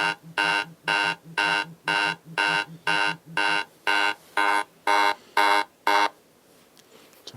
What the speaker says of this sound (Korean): 자석이 떨어지게 되면 반응을 해서 이 사이렌이 울리게 됩니다